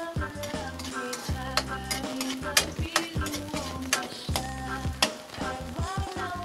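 Garlic and onion sautéing in a pan for a homemade spaghetti sauce, a steady close sizzle broken by repeated rhythmic scraping stir strokes and utensil clinks, with no talking.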